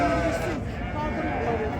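Romanov sheep bleat repeatedly at a busy livestock market in Ganja, the wavering calls heard close by under people talking and a constant crowd din.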